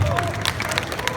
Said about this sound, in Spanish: Vamos a recibir con un aplauso,